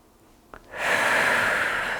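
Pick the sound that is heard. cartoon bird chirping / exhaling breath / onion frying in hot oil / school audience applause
exhaling breath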